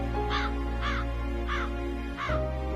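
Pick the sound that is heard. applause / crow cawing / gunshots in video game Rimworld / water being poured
crow cawing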